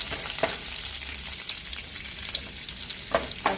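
Onions fry in a small seasoned pan, a loud, steady, close hiss with a few sharp clinks and scrapes from stirring, and no voices.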